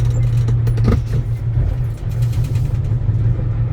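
A car engine labours uphill in second gear after a downshift, a steady loud low drone running close and unbroken with slight rises and dips in strain.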